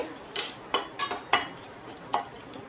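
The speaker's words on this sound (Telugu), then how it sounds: "ఇలా ఎర్రగా వేగాలండి సిమ్లో పెట్టి వేపుకోవాలి" Ajwain frying in a pan over a low flame makes a quiet background sizzle, punctuated by five sharp, close scrapes and clinks of a spoon stirring against the metal at an uneven pace.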